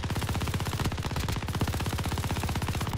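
A video game gun fires in a loud, continuous automatic burst of rapid, evenly spaced shots that lasts the whole stretch.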